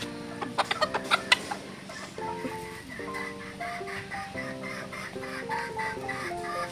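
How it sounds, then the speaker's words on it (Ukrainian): Chickens and roosters clucking and cackling close by, with a quick burst of sharp tapping pecks near the start. "курочки, півники люблять таке діло"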